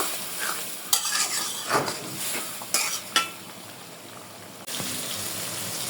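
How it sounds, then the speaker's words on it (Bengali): A spice paste of chili powder and dried chili, loosened with water, is stir-fried in a pan for a river tengra fish and pointed gourd curry, with irregular scraping spatula strokes over a soft steady sizzle, close up and without talk. "মশলাটা পাঁচ মিনিটের মতো কষায় নেব"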